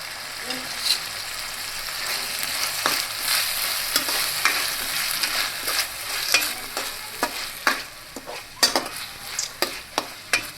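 Vegetable bhaji cooks over a low flame, with a soft continuous sizzle broken by sharp, close scrapes and knocks of a spoon stirring in the pan, growing busier toward the end.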